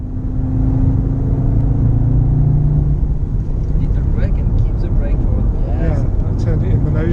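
A TTS driven on a race track: an engine drone with some rising revs runs throughout, and a person talks over it during the second half.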